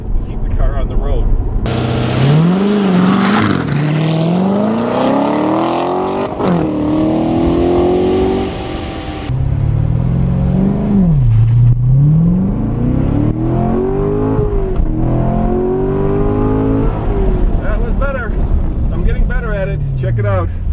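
A 2014 Chevy Corvette Stingray launching from a standstill to 60 mph, the engine rising in pitch through repeated upshifts, loud and close, with someone talking over the run.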